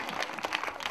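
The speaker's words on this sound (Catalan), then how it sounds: "Un fort aplaudiment per ella i pel suport que rep, òbviament, a la seva família." Crowd applause for a finisher at a women's five-mile road race in Valldoreix, a brief burst of dense, steady clapping with no voices on top.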